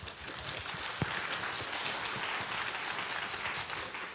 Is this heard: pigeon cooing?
no